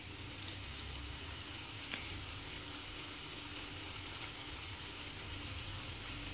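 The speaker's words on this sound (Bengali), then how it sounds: "একটু নেড়ে নেড়ে দিলে আমাদের লেয়ারে তেলটা ঢুকবে, ভাজাটা ঠিক মতো হবে, লেয়ারগুলো আলাদা হবে।" Lachha shemai, layered vermicelli, frying in oil while being stirred and turned, giving a steady close hiss and sizzle throughout with faint stirring scrapes.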